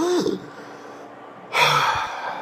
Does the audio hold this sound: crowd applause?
no